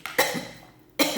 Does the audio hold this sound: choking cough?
yes